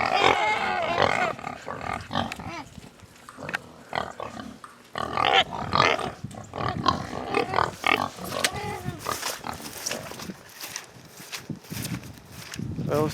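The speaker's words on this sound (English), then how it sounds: "Hey pigs! What's going on, pigs?" Pigs on a farm grunt and snort in a busy, close mix, with a person's voice calling out over them and some shuffling movement throughout.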